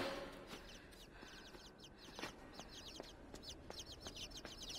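Birds in the video game Inside chirp and cluck in quick repeated bursts over a faint ambient bed, quiet and scattered like a small flock nearby.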